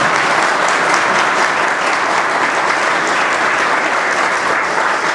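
Strong, steady applause from an audience at a book presentation in Coracora, dense and even throughout, with no voices standing out above the clapping.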